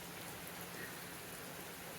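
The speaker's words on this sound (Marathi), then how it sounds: "आता मस्त पावसात भिजतो मी" Rain falling on a vegetable field planted with brinjal seedlings, a steady even hiss of drops throughout at a faint level with no voices.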